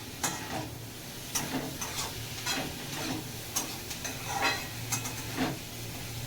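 Pav bhaji being mixed in a pan, with soft scraping stirs repeating at an irregular rhythm over a faint steady sizzle, heard close and fairly quiet.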